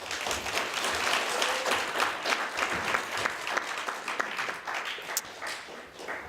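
Audience applause at a candidate forum, steady crowd clapping that carries evenly through the clip, fairly close and filling the room, with no talk over it.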